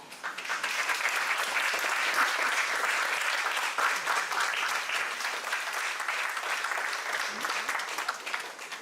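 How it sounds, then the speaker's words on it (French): Audience applause at a patient experience conference, a steady dense round of clapping that holds at full strength for about nine seconds with no talk over it. "sous vos applaudissements"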